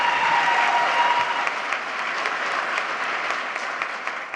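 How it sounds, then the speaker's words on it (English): An audience at a civic state-of-the-city address breaks into sustained applause, dense many-handed clapping filling a large room, loud and steady throughout with a few faint voices underneath. "go ahead, give us applause"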